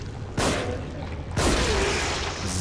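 Two loud, booming pistol shots in the horror video game The Evil Within, about a second apart, each cracking sharply and then rolling into a reverberant rumble over a dark background drone.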